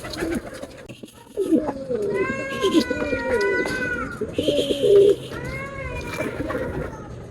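A racing pigeon comes down and coos near the loft, soft rolling coos repeated in short bursts, close, mixed with other bird calls and a person speaking quietly in the background.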